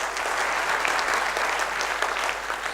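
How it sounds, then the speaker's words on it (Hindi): An audience applauds steadily and loudly at an IMC business presentation, a dense, continuous wash of clapping hands with no speech over it. "ताली बजना चाहिए"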